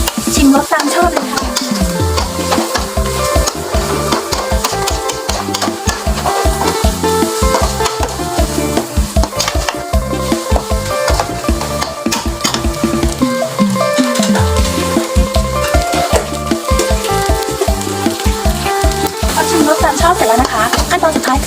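Ingredients stir-fried in a pan with starch powder, a spatula scraping and tossing them in a steady, busy rhythm over loud continuous sizzling, close up and without talk.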